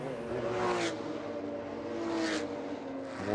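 A race car engine drones on track during Porsche club racing at Virginia International Raceway, heard from a distance as a steady, moderately loud note whose pitch rises and falls with throttle.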